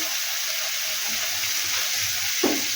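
Tomato and spices stir-fry in hot oil in a pan, giving a steady, close hiss of sizzling with a brief scrape or clink near the end, and no talking.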